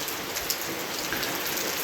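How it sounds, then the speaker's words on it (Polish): Steady rain falls outdoors as a soft, even patter of drops on surfaces. It sounds faint and continuous, with no voices. "a chwilowo to tylko pokażę Wam jak pada"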